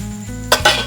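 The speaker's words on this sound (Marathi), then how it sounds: "सगळं असं हलवून घ्यायचं." A utensil stirs a crispy soybean chilli mixture in a pan, giving two quick scraping clatters over a loud, steady sizzle.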